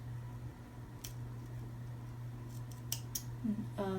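Scissors make a few sharp, close snips into the fabric tube of a water bottle cover, small isolated cuts over a quiet background hum.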